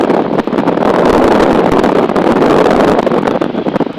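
Loud, steady wind buffets the microphone of a Piper Super Cub on landing approach in a slight right crosswind, a continuous rushing roar with brief dips and no speech.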